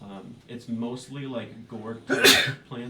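A single loud sneeze bursts out about two seconds in, sharp and close, surrounded by steady conversational speech from a player during a tabletop role-playing game session.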